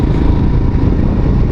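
Continuous loud engine rumble and wind rush from a 2021 BS6 Royal Enfield Himalayan being ridden on a mountain ghat road, heard close up and steady without pauses.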